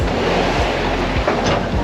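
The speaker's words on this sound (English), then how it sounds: "winds are picking up to 19, almost doing 6 knots." Steady wind and surf noise aboard a sailboat making almost 6 knots across the Bay of Biscay, winds around 19 knots with choppy waves from several directions, a continuous loud rush with low rumbling buffets and no talk.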